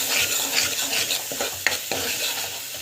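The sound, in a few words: sautéing tomato thokku in a pan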